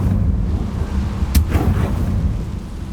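A sharp blast bursts out as the Confringo fire spell is cast in the Hogwarts Legacy video game, a single loud burst with a brief trailing rumble over a steady low background hum.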